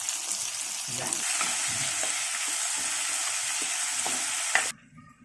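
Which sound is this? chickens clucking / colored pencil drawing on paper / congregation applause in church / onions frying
onions frying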